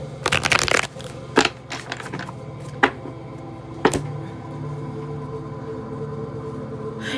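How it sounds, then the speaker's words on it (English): Tarot cards shuffled by hand in a quiet room: a dense burst of riffling and scraping at the start, then several sharp isolated card snaps over a low steady background. "Let me do a nice little shuffle."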